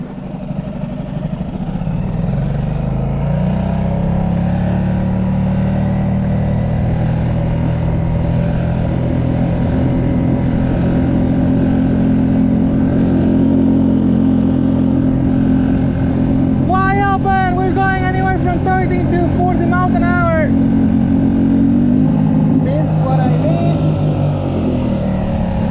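A small outboard motor on a tiny inflatable Sea Eagle boat roars steadily at full throttle for the whole stretch, loud and close, with brief whining tonal bursts partway through.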